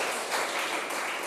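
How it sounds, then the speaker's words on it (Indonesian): A church congregation breaks into applause in a sermon setting, a dense, continuous patter of many hands clapping at once for a short burst. "Tepuk tangan untuk Tuhan Yesus Kristus."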